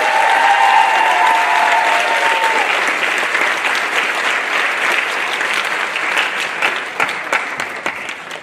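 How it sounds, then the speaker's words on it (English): Loud, dense applause from a crowd at a high school senior final assembly, a steady wash of many hands clapping that runs the whole time and thins slightly toward the end. "Can we have a round of applause for"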